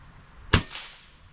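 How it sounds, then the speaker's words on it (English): A single sharp crack from a supersonic airgun shot firing a 22 grain H&N Hornet slug through a Huggett moderator, close and loud, with a short decaying tail in a quiet setting. "go ahead and shoot one time over supersonic here with the 22 grain H&N Hornet"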